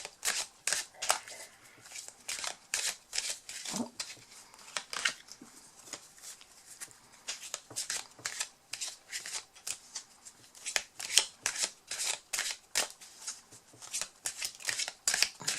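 A deck of 32 Algariel tarot oracle cards is shuffled by hand close to the listener. The riffling and slapping strokes repeat steadily for about fifteen seconds, crisp and bright, with no talking.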